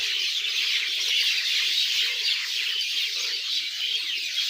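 A dense, unbroken chorus of many small birds chirping and twittering together, steady and moderately loud, with no one speaking.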